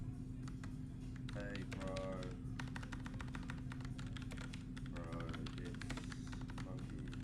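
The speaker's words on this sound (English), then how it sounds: "let me just type an email" Rapid clattering keystrokes on a computer keyboard while an email is typed, steady and close, over a constant low electrical hum, with a voice speaking briefly at the start.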